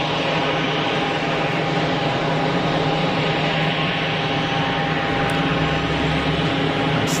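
An easyJet airliner at Geneva Airport, a loud, steady, broadband jet engine roar that stays constant and close throughout with no talk.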